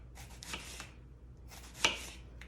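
A knife cuts onions into slices on a cutting board, making close, crisp chopping strokes with a sharp knock near the middle.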